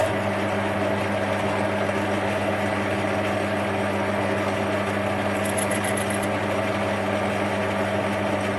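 Steady, loud machining drone from a lathe with a carbide insert boring bar cutting inside a spinning workpiece at low speed, a constant hum with layered tones that holds unchanged throughout, with a brief high whine partway through.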